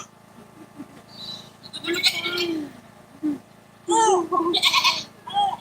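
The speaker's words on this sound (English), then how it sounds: "There's the baby goat." A baby goat in a goat pen bleats several times, with a short cry early and a louder run of wavering bleats toward the end, alongside people talking close by.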